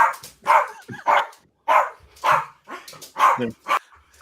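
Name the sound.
dog barking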